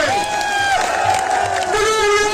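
A rally crowd in Sardarshahar cheers and shouts together, with raised voices rising and falling in a loud, continuous, chant-like roar close by.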